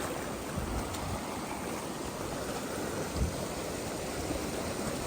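A flowing river stream, a tributary of the Tadi river, gives a steady broadband rush of water, close and continuous with no pauses.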